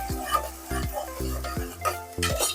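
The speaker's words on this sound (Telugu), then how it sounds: "ఈ ఆనియన్ కొద్దిగా ఫ్రై చేస్తాం" Onion frying in a pan for mutton curry, a soft sizzle under repeated metallic stirring clanks of a spoon against the pan that ring briefly, close and moderately loud, without talk.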